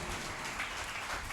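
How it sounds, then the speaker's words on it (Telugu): A church congregation claps together at a New Year service, a dense, steady wash of many hands with no clear individual beats, moderately quiet and continuous throughout. "చప్పట్లు కొడుతూ యేసయ్యకి మహిమ చెల్లిద్దాం"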